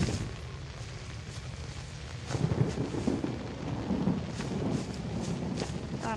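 Thunder from lightning in the horror video game Outlast gives a low, rolling rumble that swells midway and lingers under ambient rain and wind.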